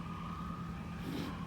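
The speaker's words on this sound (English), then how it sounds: "You hear the sirens." Emergency vehicle sirens wail steadily in the background, a sustained tonal drone that stays faint and distant throughout with a slight swell toward the end, no speech over it.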